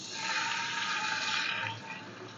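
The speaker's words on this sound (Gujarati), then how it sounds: "અડધો કપ જેટલું પાણી લઈશું." Half a cup of water is poured into a hot tempering of asafoetida, curry leaves, turmeric and sesame seeds for Surti sev khamani, giving a steady, close rushing splash for under two seconds before it tails off.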